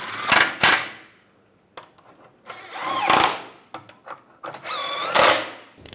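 Short bursts from a power tool run the steering bolts down snug on the front suspension of a 1998-2010 Volkswagen Beetle, several close, loud whirring pulses with brief pauses between them.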